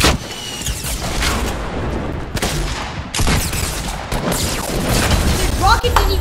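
Rocket blasts and explosions in a shooter game, a series of loud booming impacts with gunfire scattered across several seconds, close and harsh.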